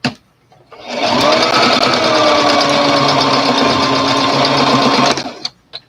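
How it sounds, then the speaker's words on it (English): A sewing machine stitches a doll's underskirt in antique doll style, its motor whirring in a steady, close, loud run of about four seconds that starts and stops abruptly. "Now take this underneath and I'm going to sew it up and down."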